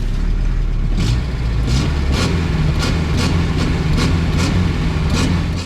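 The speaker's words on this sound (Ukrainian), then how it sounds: "Ще помітив, як вона крутезно відкликається на педаль газу." A Ford car engine runs steadily and loud throughout, with a low rumble and a series of regular higher bursts roughly every half second as the gas pedal is blipped, close and alone with no talk.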